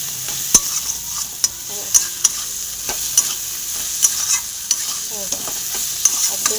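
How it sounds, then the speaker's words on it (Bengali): A spice masala is stir-fried in a pan, giving a steady background sizzle punctuated by sharp, regular scrapes and knocks of the spatula against the metal, close up and without voices. "এটার মশলাটা সুন্দর করে এরকম ভালো করে মশলাটাকে কষে নিতে হবে"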